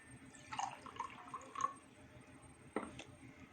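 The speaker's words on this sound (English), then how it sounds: "Now I'll pour some water." Water pours and splashes quietly into a container in a few short bursts, with faint drips and gurgles.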